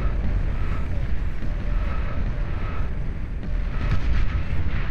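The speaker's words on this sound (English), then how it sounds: "Juggernauts smacking each other in the face with their shotgun cannons" Juggernauts trade shotgun cannon blasts in a Beyond All Reason 8v8 battle, a dense continuous roar of heavy booming fire and rumbling explosions with no clear gaps.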